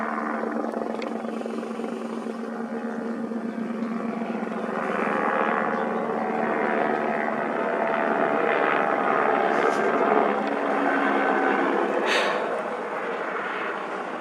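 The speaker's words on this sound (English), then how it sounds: "There's a plane coming in out there too." A distant aircraft drones steadily overhead, a broad, continuous engine rumble that swells slightly and fades, with no talking.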